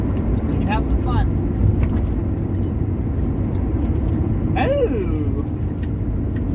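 A car's engine hums steadily while driving on a road, a continuous low drone with brief overlapping speech from a man.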